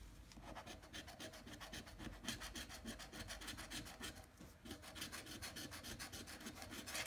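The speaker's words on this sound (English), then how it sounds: "it's not going to stop me from scratching a ticket" Rapid rhythmic scraping of a coin across a lottery scratch-off ticket, rasping strokes repeating steadily and close up for the whole stretch, with no talking.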